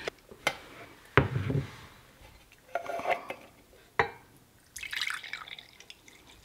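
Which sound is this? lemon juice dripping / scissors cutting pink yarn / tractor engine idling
lemon juice dripping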